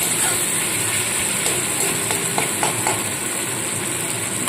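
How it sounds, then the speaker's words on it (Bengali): Onion and tomato fry with a little salt in a pan, giving a steady, close sizzling hiss throughout with a few faint clinks. "এবার পেঁয়াজ আর টমেটোটা সামান্য লবণ দিয়ে একটু ভাজা ভাজা করে নেব।"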